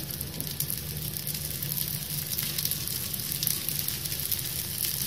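Oil sizzling steadily in a pan while rava dosa is being made, a continuous crackling hiss held close and even from start to finish with no talk.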